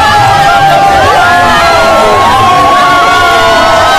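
Members of the Central African community in Cameroon greeting the president with a dense, loud crowd of shouting, cheering and high ululating voices sustained throughout, with overlapping wavering calls.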